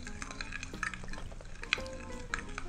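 Belyashi batter with salt and vodka is stirred while sifted flour is added, giving soft, repeated scraping and slapping strokes at a quiet, close level, with faint clinks of the utensil against the bowl.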